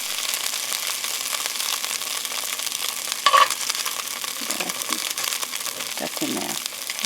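Meat browning in a pan for an Irish stew, with a constant crackling sizzle close by and brief stirring or scraping sounds toward the end.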